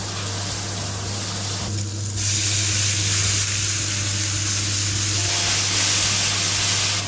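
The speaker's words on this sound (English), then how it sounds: "Now we let our meat brown a little while" Beef or pork sizzles and browns in a hot pan for a tomato and egg stir fry, with a steady close hiss, a short quieter dip midway and a low constant hum underneath.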